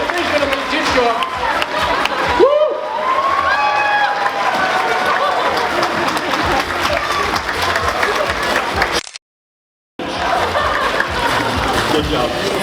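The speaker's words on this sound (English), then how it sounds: "Give them a big round of applause." Loud audience applause and cheering for youth cosplay contest winners at a convention, a dense roar of clapping and shouts with voices calling over it, briefly cutting out before resuming.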